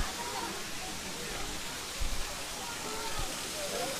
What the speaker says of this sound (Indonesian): Ini pendek bro air terjunnya, tapi lumayan sih airnya jernih